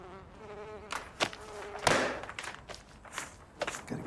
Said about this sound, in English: Gotta get rid of these wasps.